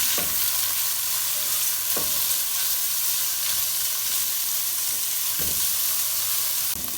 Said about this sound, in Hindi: सबसे पहले इन दोनों वेजिस को हम सॉटे करेंगे क्योंकि ये थोड़ी सी हार्ड होती हैं